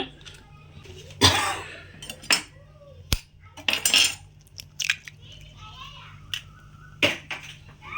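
Four eggs are cracked and poured into a pot for an omelette, giving sharp taps and clinks of shell against metal scattered between wet pouring sounds, with a person talking throughout.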